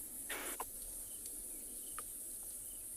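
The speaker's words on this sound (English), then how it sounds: "You can also hear lots of crickets and all sorts of other insects" Crickets and other insects chirp in a steady high-pitched chorus at sunset on a safari at Tswalu, faint and continuous, with a few soft clicks and chirps standing out briefly.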